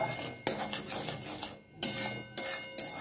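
Spice paste with chili powder, mustard and tomato being stirred and fried in a pan for a Bengali rohu fish curry, scraping rasps of the spoon against the metal pan in uneven bursts with brief pauses.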